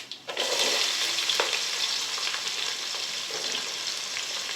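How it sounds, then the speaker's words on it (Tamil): Onions sautéing in a pan with cinnamon, cloves, cardamom, fennel and bay leaf for chicken biryani; a steady loud hiss of frying that starts with a quick rattle and holds evenly, with a few faint stirring scrapes and no voices. "ஃபுல்லாக வதக்கணும் நல்லா ப்ரௌன் கலர் ஆகிற வரைக்கும் நல்லா வதக்கணும்"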